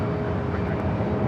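A Boeing 737 MAX 8 jet on its takeoff roll from runway 24 left at LAX gives off a steady, dense engine roar that holds at an even level throughout this brief moment.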